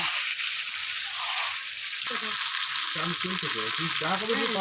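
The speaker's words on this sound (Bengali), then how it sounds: "পাশ দিয়ে অল্প একটু জুস দেব দিয়ে ভালো করে কষিয়ে নেব" Mutton pieces sizzling and frying in their own juices for a restaurant-style Bengali curry, a steady hiss under brief faint voice-like sounds and stirring scrapes.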